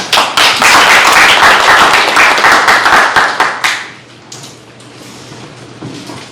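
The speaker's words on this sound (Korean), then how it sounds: "모두 박수로 맞이해 주십시오" An audience at a youth discussion forum in a National Assembly meeting room claps to welcome the speaker. The applause is loud and dense for about four seconds, then fades to scattered quieter noise.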